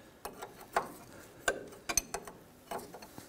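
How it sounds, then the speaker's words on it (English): A hand wrench works the tie rod nut on a 1993-1997 Ford Ranger's front passenger side, giving faint, scattered metallic clicks and ratcheting taps close by, irregular and quiet, without speech. "Just using a wrench here, we're gonna go ahead and finish pulling this nut off."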